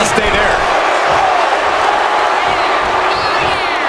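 A steady roar of crowd noise from the WWE 2K25 wrestling video game, with cheering filling the arena under continuous commentary.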